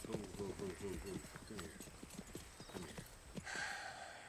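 A horse's hooves clip-clop in a steady rhythm beneath people talking, with a brief whinny-like sound near the end, the hoofbeats fairly close but partly masked by voices.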